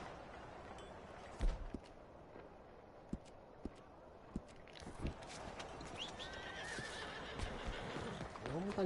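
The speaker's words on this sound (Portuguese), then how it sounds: "Eu vou montar nesse cavalo aqui" Horse in the video game Red Dead Redemption 2, a few sharp hoof clops and thumps followed by a rising, quavering neigh, fairly quiet against a soft ambient bed.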